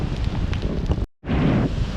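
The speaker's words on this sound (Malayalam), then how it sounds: "അതുപോലത്തെ കാറ്റും അതുപോലത്തെ മഴയും കടലും അതുപോലെ മാറിയിരിക്കുന്നു" Gusty wind roars against the microphone with a wash of sea surf beneath, broken by a short silent gap midway.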